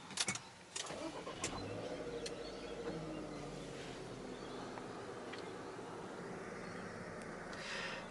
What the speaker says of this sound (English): to start the car, foot on the brake and hit the engine start-stop button.